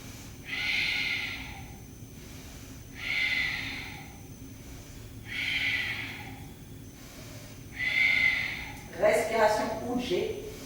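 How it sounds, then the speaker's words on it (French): Slow, deep Ujjayi yoga breaths taken during a seated posture sequence. Four long, steady breath cycles with a soft hiss, close to the mic, and a brief rustle at the end. "Respiration Ujjayi, longue, profonde"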